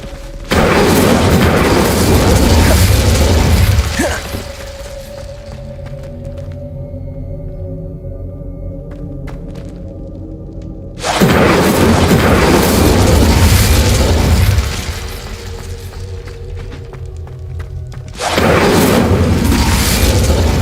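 Incendio fire spell cast in the video game Hogwarts Legacy, heavy booming blasts of roaring flame in three long bursts, with lower rumbling and ringing tones in the gaps between.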